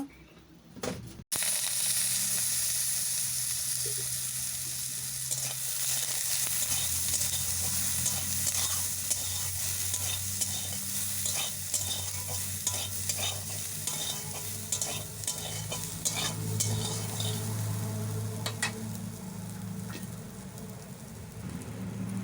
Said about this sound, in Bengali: সোয়াবিন ছেঁকে আমি ওই কড়ার মধ্যে দিয়ে ভালোভাবে ভেজে নেব